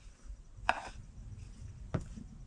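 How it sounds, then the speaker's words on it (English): Snow cream being smushed and mixed in a bowl in a snowy backyard, heard as two brief, faint scraping knocks spaced about a second apart over quiet background. "you have to just smush it and just keep mixing it and smushing it"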